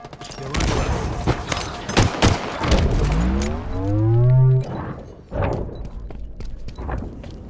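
Gunfire in the online multiplayer shooter Halo Infinite: a rapid burst of loud, sharp shots at the start, followed by a rising whoosh or engine-like sweep and further scattered reports, with game noise throughout.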